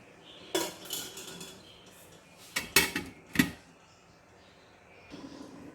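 A metal lid is set over a cooking pot of beef bone curry (mikho ka salan): a few sharp, faint clinks and rattles come in separate bursts, with quiet kitchen stillness between them.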